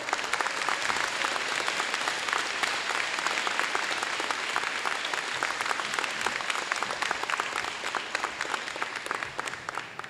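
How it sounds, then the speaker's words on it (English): Sustained applause from a school assembly audience, dense steady clapping from many hands filling the room at an even level for about ten seconds without letting up. "Can we clap for that?"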